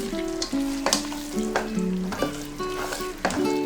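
Butter sizzles in a pan for Shahi Chole Bhature while a utensil stirs and scrapes through it, with repeated sharp clanks and clear scraping strokes standing out over a steady frying hiss.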